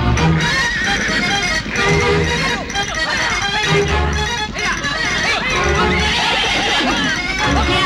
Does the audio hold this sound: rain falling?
no